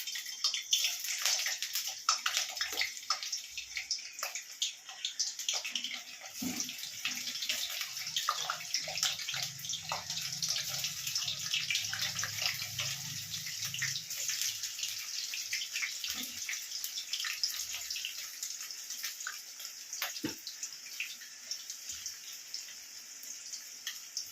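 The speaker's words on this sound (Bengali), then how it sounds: "তেলটা ভালো গরম হয়ে গেছে, এবার পনিরগুলো ছেড়ে দেবো।" Paneer pieces fry in hot white oil with a dense, bright hiss and crackle, steady throughout, with a few low bubbling thumps midway and occasional sharp pops.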